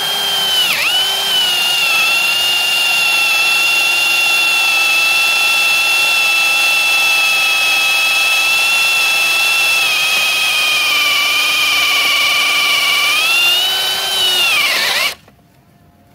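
A Ronix 8900K cordless brushless drill whirs steadily at high speed in drilling mode for about fifteen seconds, pitch dipping briefly under load, then cuts off abruptly.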